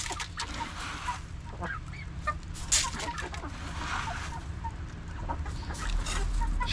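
Chickens cluck and cackle in scattered bursts at moderate distance, a busy fowl chorus over a constant low background noise.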